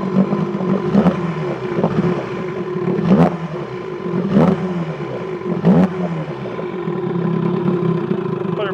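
A 1969 Johnson 20hp outboard motor runs steadily at a smooth, even drone, close and moderately loud, with a few sharper knocks and clicks breaking through now and then.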